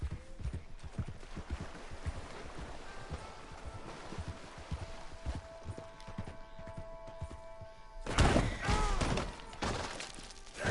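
Horse hooves clip-clopping in Red Dead Redemption 2, a steady rhythmic gait of close, distinct hoof strikes, ending in a louder burst of crashing and thumping.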